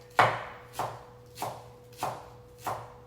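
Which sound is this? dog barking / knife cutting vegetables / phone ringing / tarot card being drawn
knife cutting vegetables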